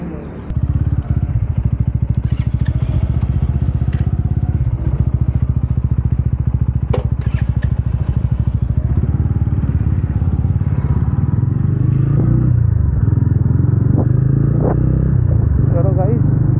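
Motorcycle ridden in monsoon weather with a dry, unlubricated chain and clattering gears, a loud steady engine rumble with rhythmic clatter and occasional thumps close by throughout.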